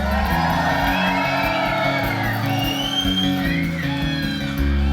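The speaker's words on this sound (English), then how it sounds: "Give them a round of applause one more time." An audience at an acoustic rock set in a restaurant venue whoops, shouts and cheers, loud and sustained under a continuous crowd roar.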